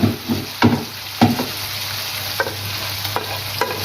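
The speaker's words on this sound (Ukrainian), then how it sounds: "Далі, друзі, додаємо наш гриби." Mushrooms frying in a pan for a chicken liver, sour cream and mushroom dish, a steady close sizzle with several sharp scrapes and clacks of stirring spaced through it, no voices.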